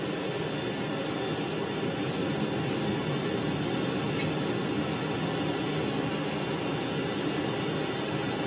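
A jet afterburner in a flight simulator game roars as a continuous broadband rushing blast, loud and steady throughout with no voices.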